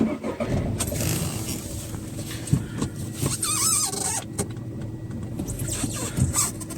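Used car's engine started and running at idle during a purchase inspection, a low steady hum with a brief squeal, clicks and knocks close by.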